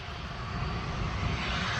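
Airplane passing overhead near Taoyuan Airport, a steady broadband engine roar that holds loud and continuous throughout, with no voices.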